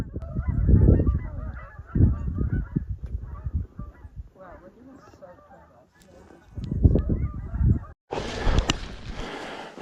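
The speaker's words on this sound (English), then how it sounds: "The geese have started to move." Geese honking in repeated loud bursts, a busy flock close by, with brief pauses between calls and a gust of noise near the end.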